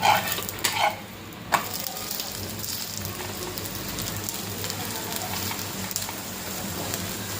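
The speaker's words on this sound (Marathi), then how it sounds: "दोन्ही साईडने छान भाजून घ्यायचं आहे" Soft steady sizzling of a sprouted moong and ragi flour thalipeeth flatbread on a hot griddle, with a few scraping clicks near the start, close and continuous, no voices.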